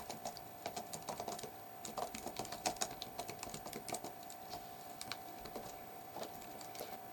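Soft, steady typing on a computer keyboard, with irregular quick key clicks coming close together and running for several seconds alone, with no talking.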